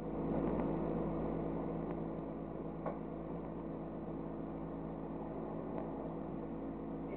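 Space Shuttle Endeavour's engines roar during launch ascent as they throttle up: a continuous, dense, distant rumble that holds steady throughout, muffled as if heard through a broadcast feed.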